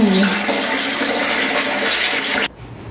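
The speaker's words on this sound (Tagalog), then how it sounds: "Ayan, napupuno na yung aming drum." Water gushes steadily into a storage drum while stocking up before a typhoon during a power outage, a loud continuous splashing that cuts off abruptly near the end, leaving quiet room tone.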